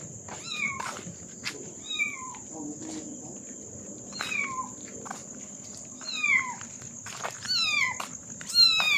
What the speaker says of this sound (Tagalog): Ay, may kuting, oh.